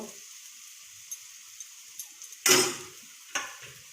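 Sliced onion, cumin seeds and ginger-garlic paste frying in a pan give a soft, steady sizzle, broken by two brief louder scrapes of stirring.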